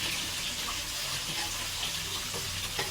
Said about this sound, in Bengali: এখন আমি কিছুক্ষণ পেস্টটা ভেজে নিব।